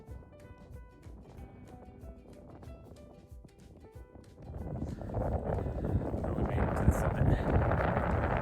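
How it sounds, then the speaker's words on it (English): Strong wind gusts roar across a snowy high-altitude mountain trail, loud and steady buffeting the microphone, building to a heavier rush after the first few seconds. "How windy this is going to sound"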